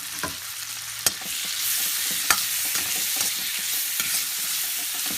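Finely chopped tomato pieces stirred into frying uggani, a puffed-rice upma, with a constant bright sizzle and several sharp clacks of a spatula against the pan.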